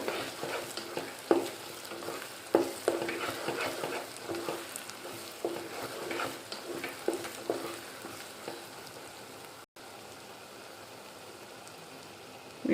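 Flat beans and tomatoes fry in a pan for an Andhra-style egg curry, crackling with a gentle, rain-like sizzle punctuated by occasional stirring knocks, then turning to a quieter, even hiss after a short break.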